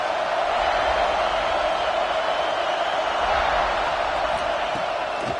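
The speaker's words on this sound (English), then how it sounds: "This crowd ready to make its presence known." Steady stadium crowd roar from a college football video game, a dense, unbroken wash of noise holding at an even, fairly loud level throughout, with no clear voices standing out.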